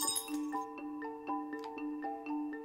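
Glass objects clink in the Baby Hands VR game, a run of bright ringing taps at a steady, fairly quick rhythm, each with a short shimmering decay, close and clear with no talk.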